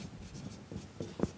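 Chalk or marker writing on a board during a lecture, a series of faint short scratchy strokes with soft taps, the last stroke slightly louder.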